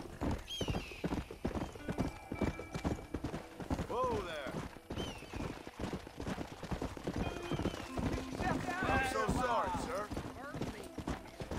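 A horse gallops in Red Dead Redemption 2 on Xbox One X, with rapid, rhythmic hoofbeats running throughout and occasional whinnies. A player talks over the gameplay.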